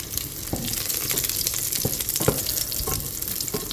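Pork fat sizzles and crackles loudly in a hot pan, a dense continuous frying hiss with scattered sharp pops throughout.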